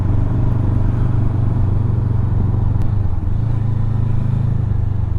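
A Honda CB500X motorcycle climbs the tight hairpins of the Stelvio Pass, its steady mid-pitched engine drone loud and close, easing slightly and then pulling again through a bend, with wind rumble underneath.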